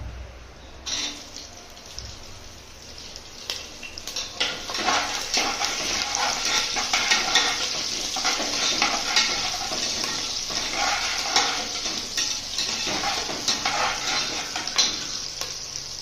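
Green chillies sizzle and fry in an oily pan for paneer biryani, with a ladle scraping and stirring against the pan in a steady, close crackle throughout.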